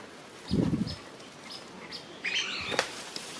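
An eclectus parrot in an aviary cage gives a quick, close burst of wingbeats lasting about half a second, followed by a few faint chirps and a brief higher call.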